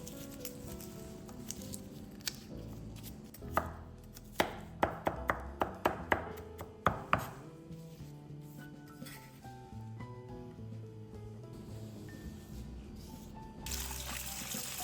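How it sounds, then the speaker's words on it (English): Running tap water splashes over sweet potato leaves being rinsed, a steady trickle and patter punctuated by a quick run of clinks and taps against a bowl or sink partway through. "Wash the sweet potato leaves under running water."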